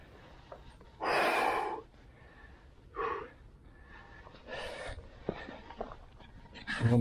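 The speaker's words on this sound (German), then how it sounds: "Boah, jetzt muss ich erstmal schnaufen." After an e-bike trail descent, a rider breathes hard, with three loud, close, heavy exhales or pants separated by quieter gaps of rustling.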